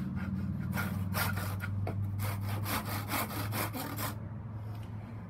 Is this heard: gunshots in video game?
no